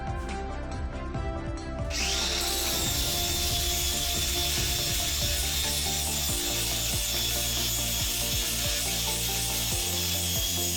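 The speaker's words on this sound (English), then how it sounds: "I used my grinder with a 60 grit sanding disc to smooth things out" A power grinder with a 60-grit sanding disc spins up and runs continuously, its loud whine mixed with the rough scraping rasp of sanding the edge of an ash wood slab cutting board.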